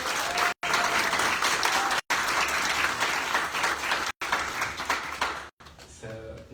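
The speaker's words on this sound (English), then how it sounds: "So if we get a round of applause." Applause from the attendees of a general meeting, dense steady clapping broken by a few short abrupt gaps, fading out near the end.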